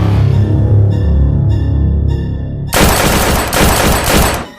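Heavy gunfire erupts in a tavern shootout from a film, a loud, dense burst of rapid shots that breaks in after a low rumbling backdrop and continues to the end.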